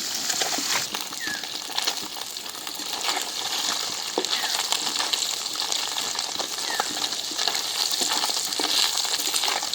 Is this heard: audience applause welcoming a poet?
no